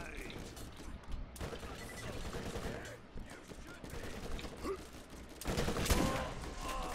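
Rapid SMG gunfire in the Borderlands video game, dense bursts running through the scene under a busy game mix, swelling louder near the end.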